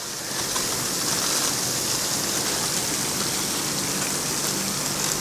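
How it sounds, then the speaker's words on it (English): A pump beneath the end of a water-filled box sends water back into the tank, making a steady, loud rushing and splashing like a stream, continuous throughout with no voices. "underneath that end there, there's a pump that sends it back into the tank"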